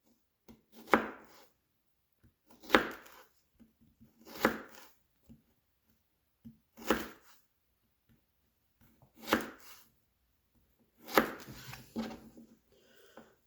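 A knife cuts ginger into thin pieces on a board for chicken tinola, six sharp, separate chops spaced about two seconds apart in an otherwise quiet kitchen.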